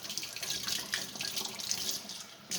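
A kitchen tap runs warm water steadily into a cup, a continuous close hiss and splash with slight fluctuations throughout, ending with a brief change in flow; no one speaks.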